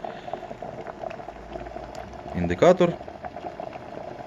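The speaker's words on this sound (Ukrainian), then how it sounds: "І у мене закипіло трішечки води на каву." A smart electric kettle heats a small amount of water for coffee, giving a steady rushing, bubbling boil throughout, with a person speaking over it.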